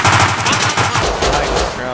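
Rapid automatic gunfire in the survival game Rust during a PvP fight, loud and continuous bursts filling the whole stretch, with a voice faintly mixed in.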